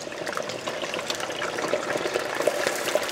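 Pieces of salt cod sizzling and bubbling steadily in hot frying oil, a close, continuous crackling hiss with no talk.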